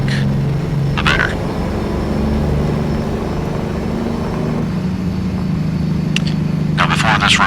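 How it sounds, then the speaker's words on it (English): A Peterbilt truck hauling cattle in American Truck Simulator rumbles loudly as its Jake brake engages, a deep, steady engine roar with brief higher chirps layered on top. "you're going to hear that Jake brake doing what a Jake brake is supposed to do"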